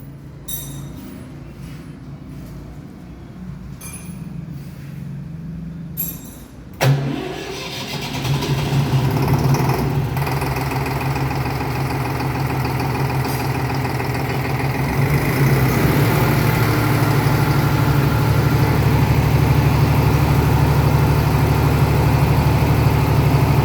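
A diesel generator, from a range sized 3 kVA to 3 MW, is started after a few quiet seconds, then settles into a loud, steady low engine drone that continues alone to the end.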